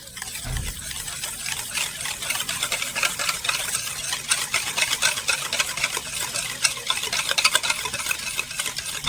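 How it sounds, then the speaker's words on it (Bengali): Powdered sugar being stirred into yogurt with a spoon for a sweet dish, a steady scraping and sloshing that runs continuously and close up, with no voices. "এবারে একটু ভালো করে মিশিয়ে নেব"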